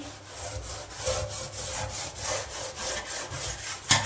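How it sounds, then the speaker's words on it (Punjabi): Scrubbing a stainless steel kitchen sink by hand with a home cleaning mix gives a steady, rhythmic rasping rub, close and fairly loud, with repeated back-and-forth strokes over about four seconds and no talking. "ਸਾਰੇ ਸਿੰਕ ਨੂੰ ਚੰਗੀ ਤਰ੍ਹਾਂ ਰਗੜ ਲੈਣਾ ਜੀ"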